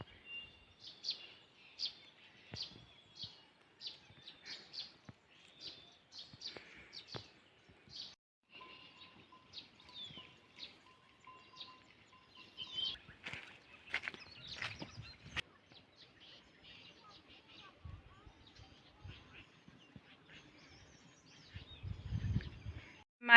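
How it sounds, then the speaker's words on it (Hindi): Small birds chirp in a hillside mountain forest in Uttarakhand: a quick, even series of faint, high chirps that thins out into scattered calls, distant and soft amid quiet outdoor stillness. "पक्षियों की आवाज़ आ रही है।"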